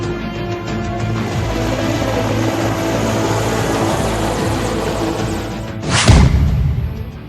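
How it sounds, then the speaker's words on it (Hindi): An Air Force MI-17 helicopter flies over Jodhpur spraying pesticide on a locust swarm, a loud steady rotor and engine roar with a brief whooshing surge near the end. "हेलीकॉप्टर से टिड्डियों के झुंड पर हमला।"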